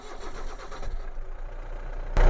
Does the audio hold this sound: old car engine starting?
yes